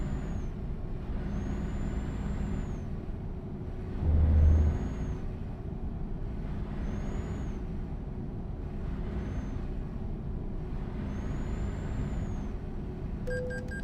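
A Peterbilt truck with a 1,000 brake horsepower Cummins diesel engine in Euro Truck Simulator 2, giving a steady low engine drone throughout, a brief louder surge midway, and faint repeated whooshing tones over the rumble.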